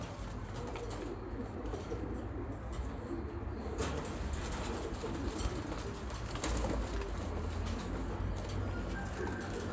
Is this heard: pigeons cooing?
yes